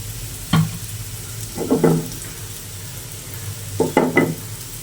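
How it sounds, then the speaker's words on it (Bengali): Sweet pumpkin frying in oil in a wok, with three clusters of scraping stir strokes rising over a steady low sizzle, close and fairly loud, no voices. "আর এদিকে মিষ্টি কুমড়া ভাজি হইতেছে।"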